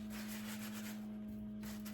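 Paper towel rubbed around the inside of a bread pan to spread a little oil, a soft close scratchy rubbing that keeps going steadily over a faint steady hum, with no talk.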